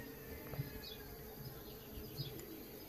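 Honey bees buzzing over a hive frame where they cluster on queen cells, a steady close drone with no voices.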